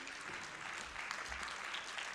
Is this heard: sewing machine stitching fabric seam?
no